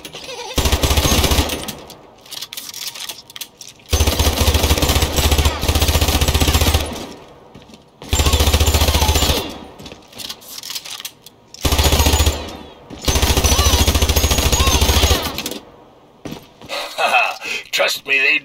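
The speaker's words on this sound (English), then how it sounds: "use your weapon to destroy those targets" Weapon fire at targets in the Hypercharge Unboxed shooter game, loud sustained bursts of rapid automatic fire in several long strings separated by short pauses, ending with scattered game effects.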